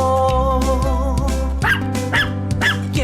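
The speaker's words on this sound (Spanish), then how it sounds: "Vamos a escuchar cómo hace el perro." A dog barks several times over steady background music, the barks short and spaced irregularly at moderate loudness.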